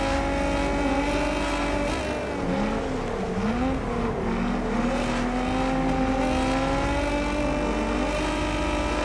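A Nissan GT-R's engine races in the video game TDU Solar Crown, revving steadily with rising and falling pitch as it accelerates and shifts, loud and continuous with no talking.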